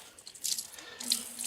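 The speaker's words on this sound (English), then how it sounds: "Now I'm removing all the water possible because this water is now cold" Water draining and splashing from wet wool being squeezed out during traditional handmade textile work, a short close trickling rush in two bursts with no talk.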